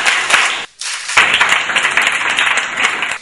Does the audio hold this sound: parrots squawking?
no